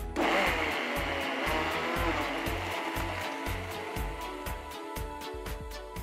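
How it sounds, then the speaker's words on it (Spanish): Blender whirring as it blends a green superfood smoothie with cucumber, a steady motor drone with a rhythmic pulsing chop, close and fairly quiet, no talk. "Ahora vamos a licuar."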